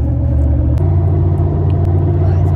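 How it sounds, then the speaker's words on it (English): Loud, steady low rumble of car tires rolling on the road, droning continuously with no voices over it. "Those are the tires. So we can't really talk that much because it's too loud."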